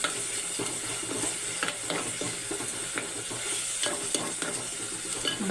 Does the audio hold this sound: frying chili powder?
yes